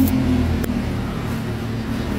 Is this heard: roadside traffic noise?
yes